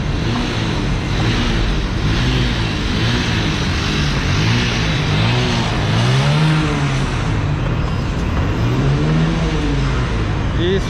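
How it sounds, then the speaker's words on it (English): A motorbike engine putters close by in busy Nairobi city-centre traffic, its pitch rising and falling in repeated revving sweeps over a constant roar of street noise. "This guy's motorbike."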